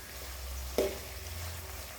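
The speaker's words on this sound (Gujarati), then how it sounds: "આપણે હવે જોઈશું તેલમાં ગવાર શેકાઈ ગયો છે." Cluster beans (guar) fry in hot oil with a soft, steady sizzle. One brief sharp clink or pop stands out partway through, all close and fairly quiet.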